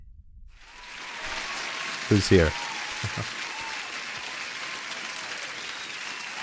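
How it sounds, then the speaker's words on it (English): Applause for a trader named Chris during a live futures trading session, a dense and steady burst of clapping that starts after a brief silence and continues to the end, with a few spoken words near the middle. "round of applause for Chris. One applause for everyone"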